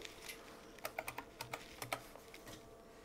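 Keys clatter on the keyboard of an old Model 85 computer during a SCSI microcode update, a quick uneven burst of sharp clicks up close over faint fan hum, with no talk.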